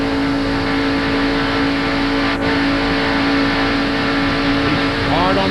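Race car engine at full throttle in the 1991 Winston 500, a steady loud drone from the in-car view with constant engine noise throughout, a voice talking over it.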